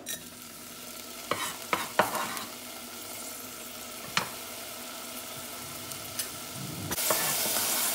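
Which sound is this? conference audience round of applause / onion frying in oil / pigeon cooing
onion frying in oil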